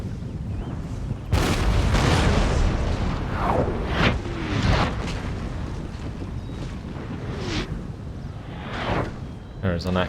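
Cannon fire rolls across a battle in the strategy game Empire: Total War, heavy booming blasts and whooshing shots that land irregularly over a windy, sea-like rumble, with a voice talking over parts of it.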